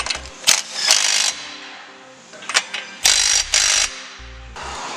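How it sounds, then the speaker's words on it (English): A ratchet with a 17 mm socket tightens the outer tie rod nut on a 2002-2006 Toyota Camry's front suspension, giving several loud bursts of quick clicking separated by pauses. "Use a 17 millimeter and tighten down the outer tie rod."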